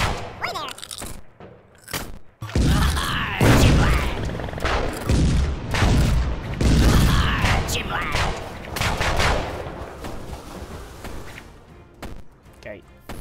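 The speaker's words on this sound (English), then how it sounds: "7 cannons on the go, look at that." Rapid overlapping booms and cracks from a broadside of seven cannons firing in the pixel-art pirate game Pixel Piracy, coming in dense volleys through the middle of the clip with a voice talking over them.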